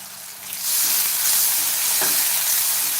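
Onion and garlic fry in a pan for a Maharashtrian methi bhaji, a loud steady sizzle that swells after a soft start and carries on alone without pause.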